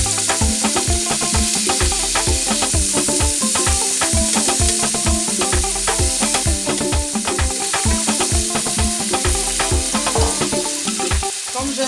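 Onions and leek fry in a little oil, a loud, steady, close sizzle with a constant crackle and rhythmic scraping from stirring throughout.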